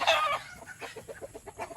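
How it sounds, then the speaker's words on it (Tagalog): Farm chickens cluck in a quick run of short, soft calls after a louder squawk at the start, heard faintly and at close range. "Ayun oh, dami pa palang manok dito."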